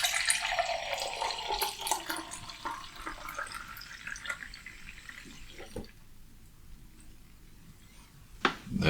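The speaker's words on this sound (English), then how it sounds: "I've just removed the pressure from the pinter and I'm going to do my pour." Wilko IPA poured from a pinter into a glass, a close splashing, fizzing stream that gradually eases off into quieter trickling, ending with a brief clink.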